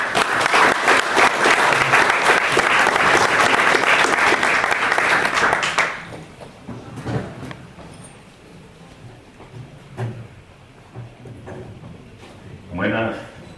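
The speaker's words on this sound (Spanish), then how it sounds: "Démosle un aplauso, por favor." Loud, full audience applause at a historians' and chroniclers' conference at Fort Leaton Presidio, sustained for about six seconds before cutting off abruptly into quiet room sounds with a few soft bumps.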